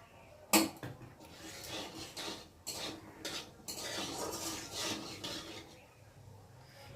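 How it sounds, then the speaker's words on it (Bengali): Potatoes and cumin sizzle and scrape in a pan, with a sharp clink of a utensil near the start, then steady frying hiss and stirring scrapes throughout. "আলু জিরেটা একটু ভাজা ভাজা হয়ে এসেছে"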